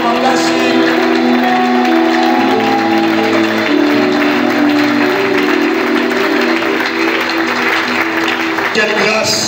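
A church congregation at a Bible seminar applauding and cheering loudly and continuously, a dense wash of clapping with voices and music underneath.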